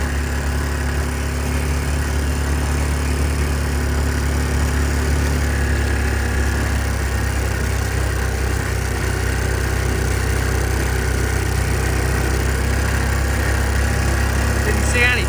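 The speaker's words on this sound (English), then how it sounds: "I'm just driving through the mowed crop fields, not to tear up the path" Vehicle rolling downhill through mowed crop fields, a steady low engine drone at idle-like pace, continuous and fairly close with no distinct revs.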